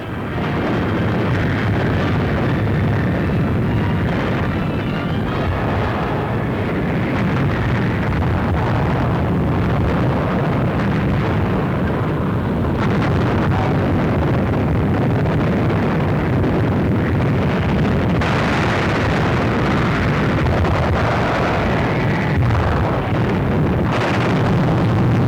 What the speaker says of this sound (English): Allied warships move into range of enemy fire and turn their big guns against the fortress batteries of Cherbourg.